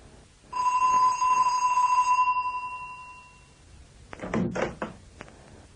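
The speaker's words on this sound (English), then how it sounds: "When visitors come to the house, they ring the doorbell." A two-tone electronic chime rings out steadily for a few seconds, then fades, followed by a cluster of knocks and door thumps.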